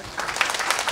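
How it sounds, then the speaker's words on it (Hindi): Audience applause at a Gandhi Jayanti speech and mushaira gathering, a short steady burst of crowd clapping filling the hall. "एक बार पुरजोर तालियों के साथ"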